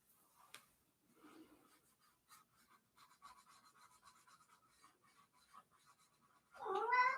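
Pet cat meowing once near the end, a clear close drawn-out call following a stretch of faint scratchy pencil-like sounds on paper.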